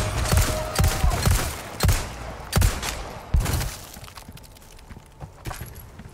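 Gunfire in the video game Resident Evil 4 Remake: a series of sharp, loud shots at irregular intervals, several close together early on, then sparser and fainter toward the end with game ambience between.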